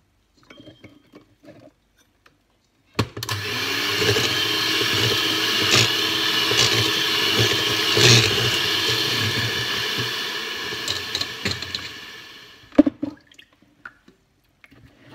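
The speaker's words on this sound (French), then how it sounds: "Et on va venir battre jusqu'à ce que le mélange blanchisse et double de volume." An electric mixer whirs steadily for about ten seconds, beating eggs and sugar over warm water for a simple génoise sponge, starting and stopping abruptly, with faint clinks of bowl and utensils before and after.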